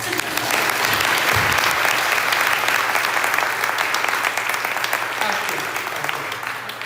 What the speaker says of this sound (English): I want some applause for that.